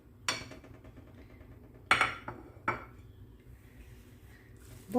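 Clinking of a spoon against a pot as fresh mint and parsley are stirred into grape leaf borani, a few sharp metallic knocks spaced apart over a quiet kitchen background.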